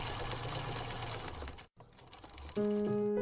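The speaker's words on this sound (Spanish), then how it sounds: "en una vieja máquina de coser Singer" An old Singer sewing machine runs with a steady, busy mechanical clatter, briefly stopping before starting up again with a louder, droning whir.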